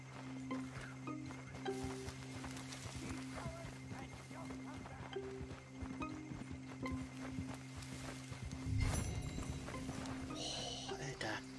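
Horse hooves clip-clop steadily with occasional whinnies amid a busy Red Dead Redemption 2 game soundscape of looping tones and effects, with a person talking over it in German.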